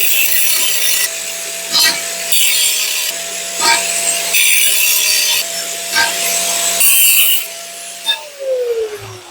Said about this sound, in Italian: così qua è tagliato di netto col seghetto